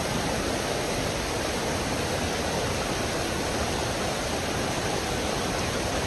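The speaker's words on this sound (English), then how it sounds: "Really nice little waterfall." Steady broadband rush of the small middle section of Buckeye Falls on Buckeye Creek in the Middle Prong Wilderness, a continuous close water roar filling the whole stretch with no voices.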